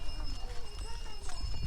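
Horse hooves clip-clop along a trail near Marpha in Mustang while riders are carried, a quick uneven patter close by, with voices and background chatter running over it.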